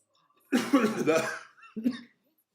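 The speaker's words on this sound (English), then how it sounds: "I've got to get rid of this cough by tomorrow" A harsh, raspy cough burst lasting about a second, followed by a shorter second cough after a brief pause, close and clear against silence.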